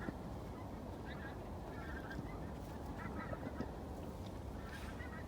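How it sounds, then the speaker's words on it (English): Geese honking off in the distance, repeated calls scattered over a steady wind-like rumble outdoors. "I don't know if you hear the geese"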